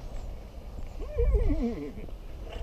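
A horse whinnies once, a wavering neigh at moderate distance over faint outdoor ambience in a park, near water.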